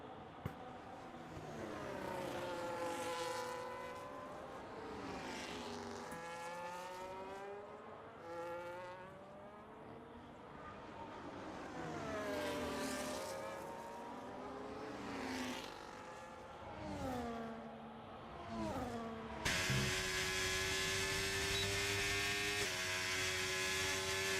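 Ferrari race cars in a racing video game at a Brazil round, engines wailing through rising and falling gear shifts, several cars passing in succession, then a steadier higher drone near the end.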